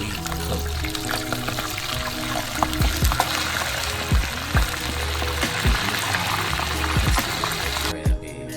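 Crab frying in a pan makes a busy, bubbling sizzle, watery and crackling, with frequent knocks and clatters throughout, fairly close and no speech.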